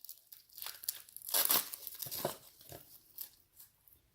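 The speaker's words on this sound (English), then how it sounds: "Try to take off this skin, at least one layer of skin, thin layer of skin." Dry onion skin being torn and peeled away for pico de gallo, giving soft crinkling and papery tearing sounds in a few close, quiet bursts.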